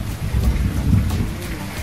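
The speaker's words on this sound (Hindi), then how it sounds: "ये देखिए कितने जोर से बारिश हो रही है" Heavy monsoon rain pouring down outside, a dense, loud, continuous roar of falling water with rumbling low noise like wind or distant thunder, no talking.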